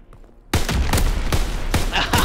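Rapid volley of loud, close gunshots from a WW2 video game, several sharp cracks in quick succession after a brief quiet start.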